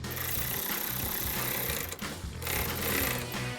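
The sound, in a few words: tightening bracket bolt with 13mm socket on Jeep Gladiator drop steps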